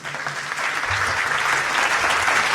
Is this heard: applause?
yes